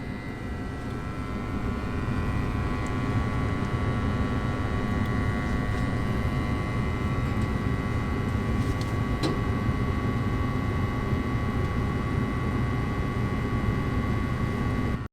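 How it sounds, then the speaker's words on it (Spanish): A gas furnace running on high stage with its inducer motor spinning up, giving a steady, loud broadband roar with a faint hum, continuous from start to finish. "esta calefacción cambia a la etapa alta. Y mis medidas deberían cambiar, ya que la presión de gas aumenta y la velocidad del motor de inducido aumenta también"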